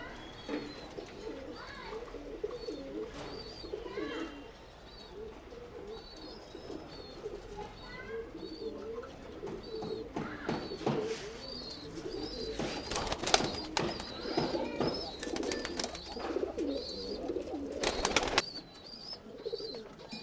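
Tumbler pigeons in a loft coo steadily and softly close by, with repeated throaty calls layered over one another, occasional wing flaps and sharp knocks, and faint talk in the background.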